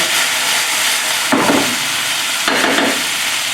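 Szechuan chicken and vegetables stir frying in a hot pan make a loud, constant sizzling hiss, with two brief surges of tossing and scraping in the pan and no voices.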